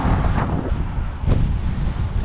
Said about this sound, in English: I think it's the wind making it sound like that.